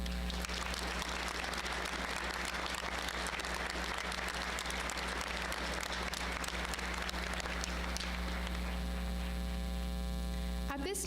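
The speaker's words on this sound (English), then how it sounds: "Please give these guests a round of applause." Sustained applause for guests at a high school Veterans Day assembly supporting the JROTC program, a dense steady wash of clapping over a strong mains hum, continuing without pause for about eleven seconds.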